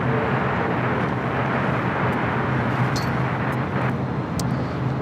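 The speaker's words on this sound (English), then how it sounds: "SAS back with the A350-900 touching down on the south side." An SAS Airbus A350-900 touches down on the south side at LAX, its jet roar a steady, loud broadband rumble holding throughout with no voices over it.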